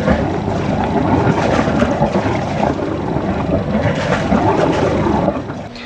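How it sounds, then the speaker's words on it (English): Cooling water pouring steadily out of the exhaust of a Yanmar engine on a sailboat, a loud, continuous splashing gush mixed with engine rumble, with no speech. "we're getting a ton and ton of water flow out"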